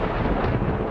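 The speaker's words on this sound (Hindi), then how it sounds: "तभी एक तेज बिजली कड़कती है" Thunder crack, a loud, dense rumbling burst that fills the short moment with no pause, heard alone with no talk.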